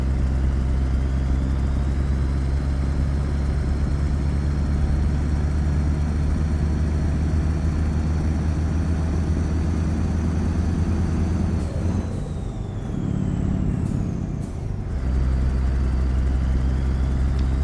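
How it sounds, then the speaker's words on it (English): Truck engine in Euro Truck Simulator 2 idles with a loud, steady low rumble and drone, briefly dipping and shifting near the end before settling back to a constant idle, no talk. "Yeah, truck sounds really, really good."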